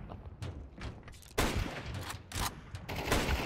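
Rapid gunfire in Counter-Strike 2, a string of sharp, fairly faint shots in uneven bursts, with a louder volley midway.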